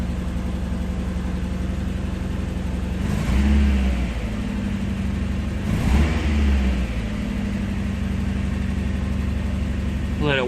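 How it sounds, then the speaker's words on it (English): A Toyota AE86 engine idling after a fuel system refresh, a steady close hum broken by two short revs about three seconds apart, each rising and then settling back to idle. "engine running."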